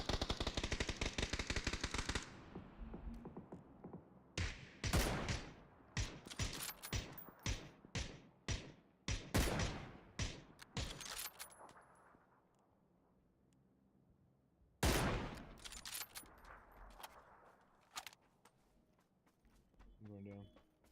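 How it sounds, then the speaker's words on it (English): Gunfire in the PUBG video game, with rapid automatic bursts and single loud shots that come in clusters and then fade, heard along with a player talking. "What is he shooting at?"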